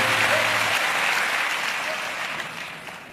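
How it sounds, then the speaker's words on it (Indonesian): A crowd applauds steadily, a dense wash of clapping that slowly fades. "Kasih tepuk tangan yang paling meriah, tepuk tangan yang paling dahsyat"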